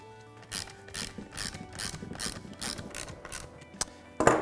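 Fasteners being threaded loosely into the inlet side of a 2-stroke motorcycle silencer, with thread locker applied, make a rapid ratcheting clatter in repeated bursts, close and moderately loud, ending in a sharper clack.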